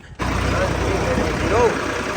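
Steady low rumble of a tractor engine idling nearby, continuous and fairly loud after a brief quiet start.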